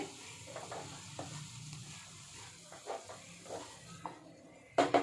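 Shredded cabbage fries quietly in a pan with a soft, steady sizzle, broken by light scraping stirs and a few clatters of a spoon against the pan.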